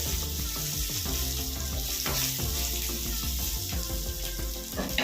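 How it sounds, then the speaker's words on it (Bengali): Red chili powder and spices fry with a steady sizzle in a pan for fish curry, stirred with intermittent scraping strokes, close and continuous without speech. "দিয়ে আবারও এইভাবে নাড়াচাড়া করে নিতে হবে"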